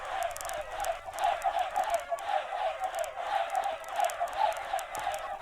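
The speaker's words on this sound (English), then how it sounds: "just listen to the sound of thousands of chickens dying at once" A dense crowd of Minecraft chickens being killed all at once, a continuous overlapping chorus of clucks and hurt squawks with rapid clicking hits, steady and fairly loud.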